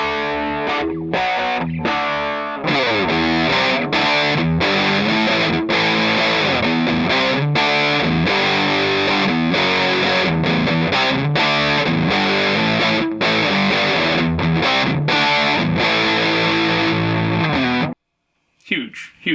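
Electric guitar played through a modded Pharaoh fuzz pedal on a mid-honky setting, a loud, thick distorted riff of steady chugging and sustained chords that runs without pause, then cuts off abruptly near the end.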